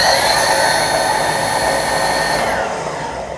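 A car alternator rigged as a bicycle motor whines loudly at high speed with steady tonal harmonics, then the pitch drops and fades slightly near the end.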